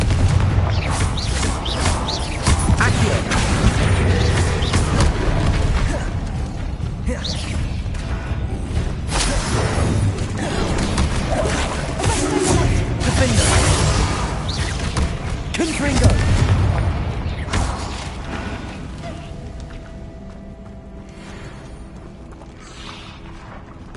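A Confringo blasting spell goes off in the video game Hogwarts Legacy: loud booming blasts and whooshing bursts over a busy combat mix, with several heavy impacts before the noise thins and fades toward the end.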